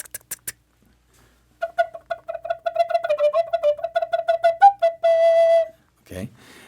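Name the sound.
native flute exaggerated tonguing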